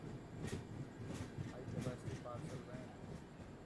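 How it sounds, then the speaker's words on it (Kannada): Rajdhani Express overtaking a moving Karnataka Express train: rolling rumble with rhythmic clacks and whooshes as carriages pass close by, under people talking in the background. "ರಾಜಧಾನಿ ಓವರ್ಟೇಕ್ ಮಾಡ್ಕೊಂಡು ಹೋಯ್ತು"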